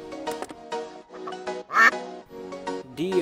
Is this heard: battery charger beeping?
no